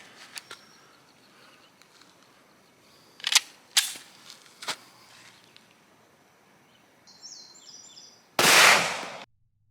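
A Canik TP9SFx pistol fires 9mm Federal Punch rounds as a few sharp, separate reports over a quiet outdoor background, ending with a louder, longer blast near the end.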